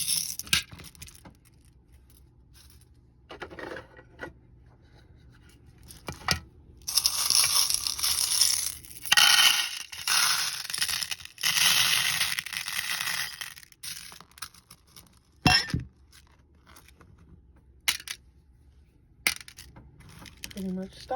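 White opaque beads clatter into a storage container while it is restocked, with bursts of bright, gritty rattling broken by quieter gaps and single clicks, close and clear, with no voices.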